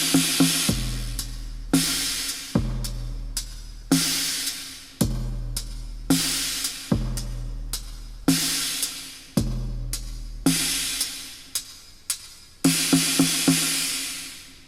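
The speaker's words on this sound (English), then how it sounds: "The drum machine part sounds like this." Drum machine hits played on finger pads in an improvised pattern: deep booming kicks and sharp snare-like hits with crashy decays, punchy and close, no voices.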